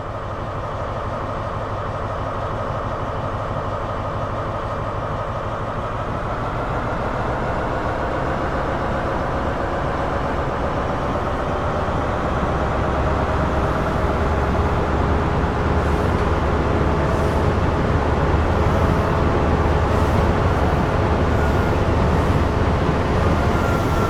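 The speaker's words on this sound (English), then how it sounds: "Now apply some power and get this train moving. Ease the throttle handle into notch 1." A diesel train in Train Sim World 3's Great Western Express pulls away in notch 1 with a loud, steady engine drone and rising rumble that holds without a break as the train gathers speed.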